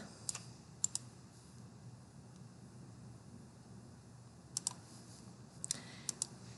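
Short bursts of typing on a computer keyboard, a few quick clusters of key clicks separated by long quiet gaps, fairly faint over a steady low room hum, with no talking.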